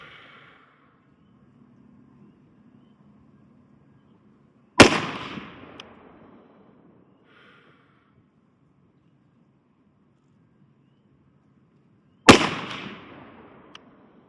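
Two sharp AR-15 rifle gunshots fired about seven seconds apart, loud and close, each with a cracking blast and a short decaying echo, with near-silence between them.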